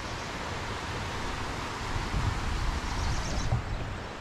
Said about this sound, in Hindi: यहाँ नीचे की तरफ आप देखोगे तो वो पूरा पानी आपको बहता हुआ दिखेगा, उसकी आवाज़ आएगी